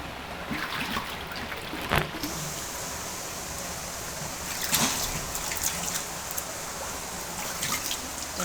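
Water pours steadily at Cum On Falls, a broad constant hiss of a waterfall and trickling stream close to the microphone, with a few louder splashy bursts and no speech.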